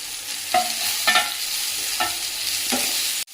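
Green chillies and tomato frying in a pan for chicken curry, a bright continuous sizzle with four or five loud scraping stirs spaced about half a second apart, close and without speech.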